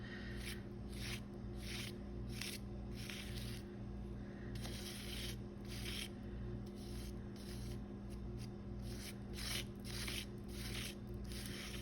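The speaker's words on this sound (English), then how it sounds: "I'm trying to scrape it as much as I can off the stencil so that I know that it is a good even layer underneath." A tool scrapes texture medium across a stencil, a steady rapid rubbing and rasping that runs for about twelve seconds, close up, over a constant low hum, with no voice.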